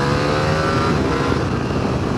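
A 2021 Ducati Panigale V4 superbike engine pulls hard under acceleration, a loud, close, steady roar with rising intensity filling the whole short stretch, with heavy wind noise and no talking.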